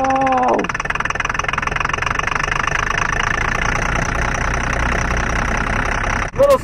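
A Caterpillar diesel engine on a snowy dig site cranks over after a brief starter whine and settles into a loud, steady idle with a rough, knocking throb and fan noise, ending in a short burst of sound.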